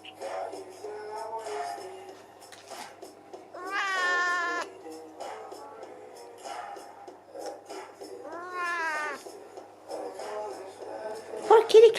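A hungry cat meows repeatedly, with two long, loud rising meows standing out among softer calls, while a person talks quietly nearby.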